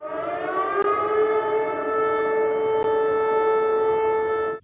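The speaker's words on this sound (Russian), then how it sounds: "В Люблине звучала сирена воздушной тревоги." A loud air raid siren in Lublin, Poland wails steadily in a sustained rising-then-level tone for several seconds before cutting off abruptly, with no voices.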